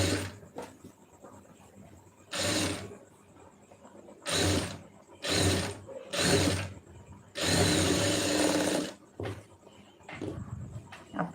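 Short bursts from a sewing machine stitching the shoulder of a lining blouse, five or six separate runs of whirring broken by quiet pauses, moderately loud and close.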